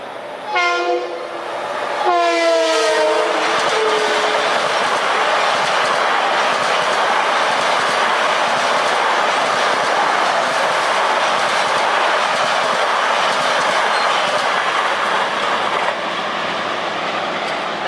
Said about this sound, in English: That's an express train from Ronkonkoma to New York.